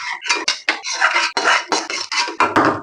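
A spoon scrapes spicy kara chutney into a bowl in a run of rapid, close, gritty scoops and taps that repeat with short pauses between them.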